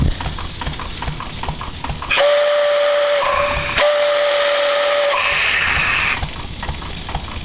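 A 3.5-inch three-chime steam whistle blown on a steamboat engine sounds one long, loud chord for about four seconds, swelling near the end, with steam hissing before and after.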